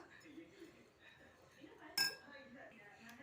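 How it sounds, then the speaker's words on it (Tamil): A spoon clinks and scrapes inside a pan while stirring rice and jaggery for sweet kaapparisi, with soft stirring and one sharp metallic clink near the middle over a faint hum. "இப்போ இதில் நம்ம நல்லா கிளறி விட்டுக்கலாம்"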